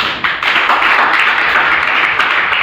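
A church congregation applauds at a worship service, with dense, loud, continuous clapping that fills the space steadily from start to finish.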